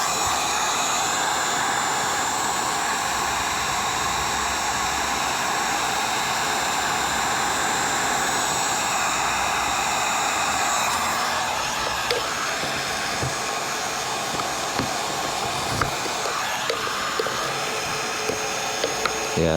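A heat gun warms trim on a vintage truck camper so the trim can be peeled off. It gives a continuous loud blowing roar for about twenty seconds, with scattered small clicks and taps of handling toward the end.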